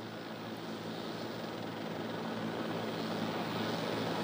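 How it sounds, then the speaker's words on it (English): A JetBlue airliner, flight 292, approaching to land at LAX with its nose gear turned sideways: a steady, broad jet engine roar that swells slightly as the aircraft draws nearer, heard alone with no talk. "And here it comes in now, this JetBlue flight 292 with that front nose gear pointed sideways."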